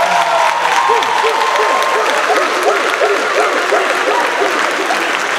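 Theatre audience applause for a high school musical's crew, a steady dense wash of clapping from a large crowd lasting throughout, loud and continuous with faint crowd murmur beneath.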